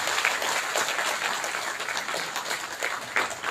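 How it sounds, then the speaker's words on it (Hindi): An audience at a workshop gives steady applause for sanitation workers, a dense continuous patter of many hands clapping at moderate volume throughout. "सफाई कर्मियों के लिए जोरदार तालियां।"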